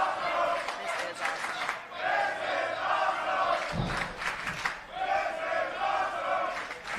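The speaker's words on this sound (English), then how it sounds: "This crowd is absolutely behind Delilah Doom, the former Inner City champion" A wrestling crowd at a women's match roars and chants in support of Delilah Doom, loud sustained cheering swelling in waves with a brief dip midway.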